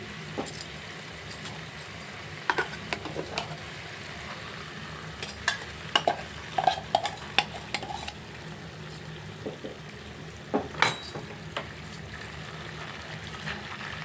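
Ground onion paste fries and is stirred in a pan for chicken masala curry. A low steady sizzle runs underneath while scattered spoon scrapes and clinks come in uneven bursts, heard up close with no talking.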